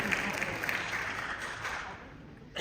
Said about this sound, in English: Yeah, you can clap for the Muppets